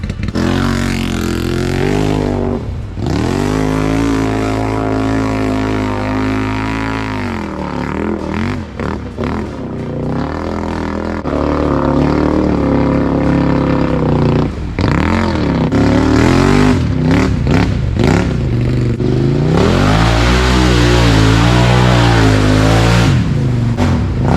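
A Can-Am Outlander 800 ATV engine revs and roars loudly and close up as it is ridden through swamp holes, rising and falling continuously with clattering throughout.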